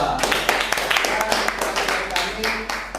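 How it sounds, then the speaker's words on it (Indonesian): A short burst of applause from a small group in a teacher-training performance test, with scattered clapping and some voices mixed in. "kasih tepuk tangan untuk kelompok 2"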